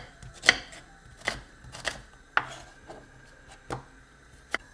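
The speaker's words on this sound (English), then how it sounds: "I'm going to start by finely chopping, roughly chopping 2 medium-sized onions." A kitchen knife roughly chopping two medium onions on a board for a spinach chickpea curry gives irregular, close, crisp taps spaced about half a second apart, with no talking.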